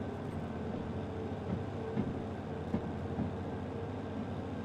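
Heavy freight locomotive in the game Derail Valley straining to pull a growing load, a steady low mechanical rumble with faint rhythmic clanks and knocks throughout, no talking.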